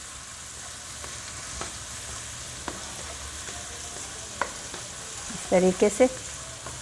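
Onions frying in oil in a pan, a steady soft sizzle with occasional stirring taps, then a brief burst of louder scraping near the end; someone speaks a few words over it.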